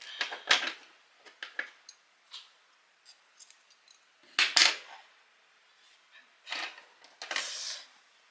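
Scissors snipping yarn during punch needle embroidery of a cat design, a series of short crisp cuts with quiet pauses between them, close and clear.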